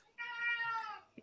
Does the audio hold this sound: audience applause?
no